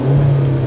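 Hyundai Veloster Extreme Driving Edition with its synthetic engine sound set to low, giving a steady, loud low hum with a constant tone and no rise in pitch, heard alone.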